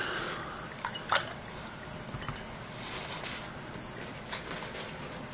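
A paint brush swished and tapped in a cup of water while cleaning off primer, soft close sloshing and trickling with a couple of sharp knocks against the cup early on.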